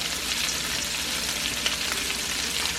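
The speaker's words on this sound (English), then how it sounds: "we're going to let these onions cook up" Onions frying in a pan alongside pork chops for a Chicago-style street food sandwich, a steady, dense sizzle that holds at an even level throughout with no talk.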